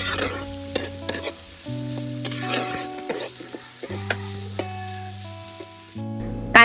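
Finely chopped onion frying in tempering oil crackles steadily while a metal spoon clinks and scrapes against the pan in irregular strokes, with a sharp knock at the end.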